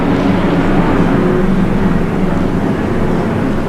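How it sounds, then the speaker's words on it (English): An airplane passes overhead during a court appeal hearing, a steady loud broadband roar filling the whole stretch with no let-up. "The plane was passing by making noise."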